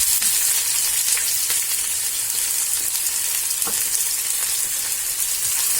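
Chopped onion and chili frying in a pan for an onion-and-okra dish, giving a steady, close, loud sizzle that holds evenly throughout with no voices.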